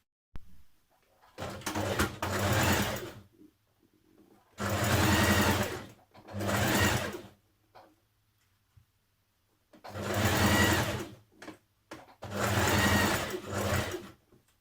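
Domestic sewing machine understitching the neck facing of a Simplicity 8602 top, four separate loud whirring runs of rapid stitching, each lasting a second or two, with quiet pauses in between.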